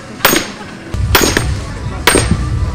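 A heavy sledgehammer lands three loud, sharp blows at a men's festival in Kyiv, about a second apart. Each hit rings out briefly over a rumbling crowd background.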